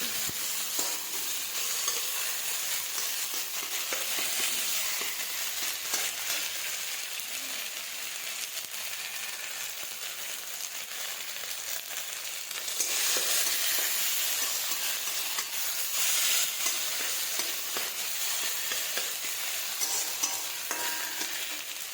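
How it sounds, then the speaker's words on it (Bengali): A ginger and cumin paste fries in a pan with a continuous sizzle, marked by repeated scraping and stirring strokes, swelling louder near the middle and carrying on without talk. "আদা জিরাটা ভালো করে ভাজা ভাজা হয়ে গেছে"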